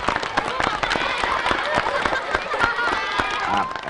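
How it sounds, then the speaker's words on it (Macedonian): A studio audience claps for a game-show contestant, dense rapid handclaps filling the room while a voice speaks over the applause. "Уште еден аплауз за Ленче."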